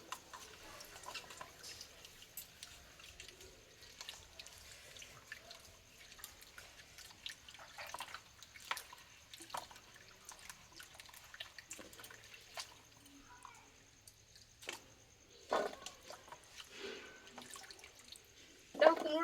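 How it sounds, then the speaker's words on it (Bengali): Pumpkin and radish are washed by hand in water, quiet irregular splashes and drips sounding close and faint, with brief louder sloshes near the end. "এই কুমড়োর মূলোটা আমি ভালোভাবে পরিষ্কার করে আমি ধুয়ে নেব"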